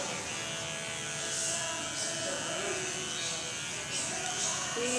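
An electric hair trimmer buzzes steadily and close up while a stylist frames a woman's face in a salon, the hum continuous with slight variations in pitch.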